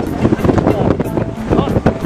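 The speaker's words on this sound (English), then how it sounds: "it's so windy" Gusty wind buffeting the microphone in uneven bursts on the active Pacaya volcano, loud and close, with indistinct voices mixed in.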